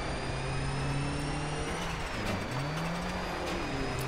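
A rally car engine in the video game Dirt revs hard at full throttle, a loud, steady drone that dips briefly as the car shifts, then climbs again.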